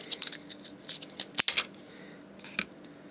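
Scissors cutting material for a ship-in-a-jar model, a handful of close, crisp snips in small clusters with short pauses between, quiet and without talking.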